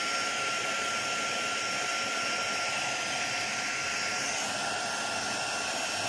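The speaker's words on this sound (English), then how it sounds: "Hit it with my heat gun," Heat gun blowing a steady, even hiss of hot air over an acrylic paint pour on glass and wood, constant and close with no pauses.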